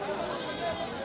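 Goats and sheep at a weekly livestock market yard give a short, moderately faint bleat, heard briefly amid the market's background noise.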